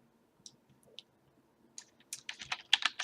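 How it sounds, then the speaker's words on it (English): Keys clack on a computer keyboard during Java programming, a few isolated taps at first, then a quick burst of closely spaced keystrokes, fairly quiet and close with no talking. "We're going to type in our variables,"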